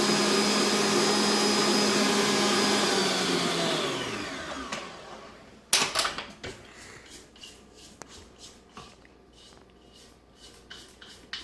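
An electric mixer whips cream cheese in a bowl, a loud steady motor whir that winds down and stops, followed by clattering knocks of beaters and bowl.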